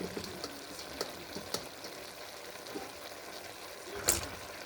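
Pasta and potatoes fry in a pan, a continuous close sizzle with occasional scrapes and knocks of stirring and a louder clatter near the end, with no talking.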